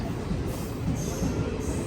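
A local passenger train rumbles steadily along the rails, with a low continuous roar and faint high squeals of wheels, heard from inside the carriage.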